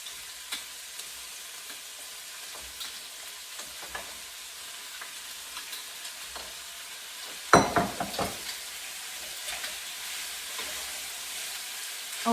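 Pork ribs frying in hot oil in a pan for a Chinese pork rib and corn soup, a steady soft sizzle that flares into a louder, crackling burst midway as more pieces hit the oil.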